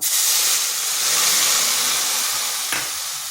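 Two bowls of water going into a hot pan while making a semolina and red lentil snack, giving a loud, steady steamy sizzle and hiss that fades slightly near the end, with no talking.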